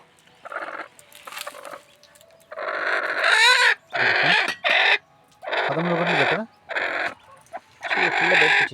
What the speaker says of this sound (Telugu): ఇది 13 గుడ్లు పెట్టేది కోడి.